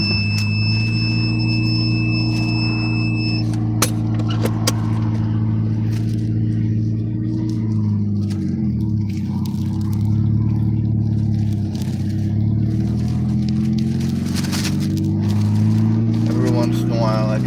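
A parked car's engine is started and left running, a loud steady idle hum with some clatter and slight shifts in pitch, lasting throughout with occasional sharp clicks.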